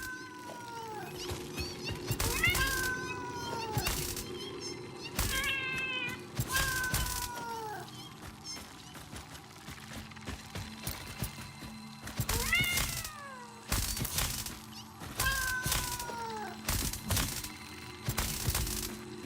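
Spider creatures in the video game Satisfactory let out cat-like meows, repeated in scattered bursts among thumps and game sounds inside a big cave, some close and loud, others fainter.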